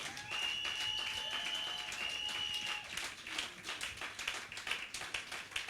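A church congregation applauds and cheers in acclamation during worship, dense sustained clapping with some whistles at first, then looser, more scattered claps as it tails off.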